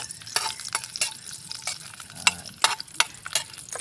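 Ginger and spices sautéing in hot cooking oil in an outdoor garden setting, a close crackling sizzle with a spatula repeatedly scraping and stirring in quick irregular strokes.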